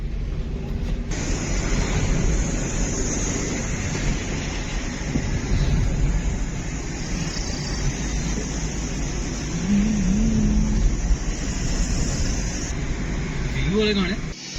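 Cold wind blows steadily at the Murree hill station, a broad continuous rush of air and microphone buffeting that holds for the whole stretch, with clouds hanging low overhead.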